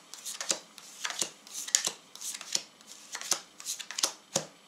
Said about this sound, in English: and then shuffle those 8 cards together